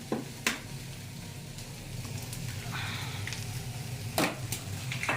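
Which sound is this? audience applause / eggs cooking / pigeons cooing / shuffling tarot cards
eggs cooking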